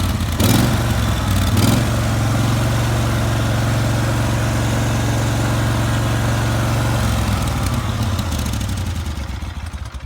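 A ride-on mower engine runs steadily at low revs, a loud, close mechanical drone with a brief rise in pitch near the start.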